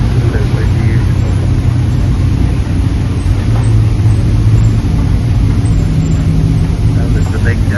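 A big Dodge GTS race car roars past at the Le Mans Classic, a loud, continuous low engine rumble heard from trackside with a voice talking over it.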